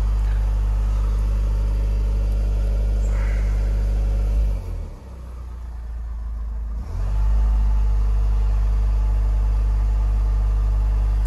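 A Ford with an automatic gearbox under full throttle during a gear adaptive-learning procedure: a loud, close, continuous engine drone that dips briefly as it shifts, then settles back into a steady roar.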